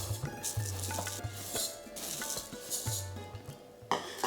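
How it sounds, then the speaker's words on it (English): Three cups of uncooked rice tipped into a pan for idli batter give short rustling, pattering bursts of grains, with a faint low hum underneath. "In the first pan, I'm going to add 3 cups of rice."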